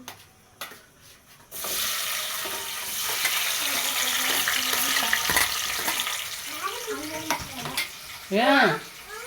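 Tempering seeds and prawns with tomatoes sizzle loudly in a hot pan in a village-style kitchen, a continuous frying hiss with stirring scrapes, and a voice briefly cuts in near the end.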